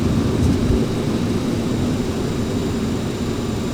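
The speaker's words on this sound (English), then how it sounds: "Okay, gear coming down." Aerosoft CRJ 700 landing gear lowering in the Prepar3D flight simulator, heard as a steady, loud broadband rumble of airflow and engine drone that holds level throughout, with no voices.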